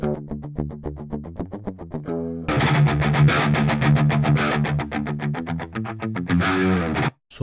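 An electric guitar runs through the Neural Amp Modeler plugin with the input pushed up for heavy distortion. Choppy muted notes give way to thick, sustained distorted chords, loud and alone, ending abruptly.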